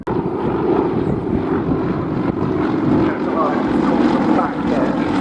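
A Merlin-engined Spitfire or Hurricane flies at the Duxford air display, a loud steady propeller engine roar with wind buffeting and muffled commentary beneath it.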